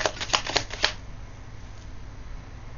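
Tarot cards are shuffled for a reading in a quick burst of crisp riffling flutters during the first second, then fading to quiet room tone with no voices.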